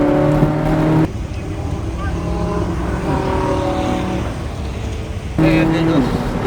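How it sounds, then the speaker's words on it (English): A C8 Corvette Z06 accelerates on the Nashville Superspeedway, its engine drone loud and steady inside the car, with an instructor's voice talking over it. "Give it a little bit more gas."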